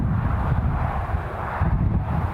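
A departing aircraft climbing out of Newcastle International Airport: a steady, rumbling low roar heard from a distance, mixed with wind buffeting the microphone, with no voices.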